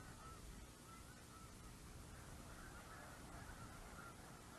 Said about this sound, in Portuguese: Depois, esperar a coluna de gansos.